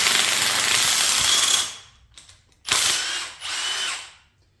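An impact wrench spins bolts off a Subaru 2.5i engine during a teardown, with one long, loud rattling burst, a few brief stutters, then two more separate close bursts before it stops.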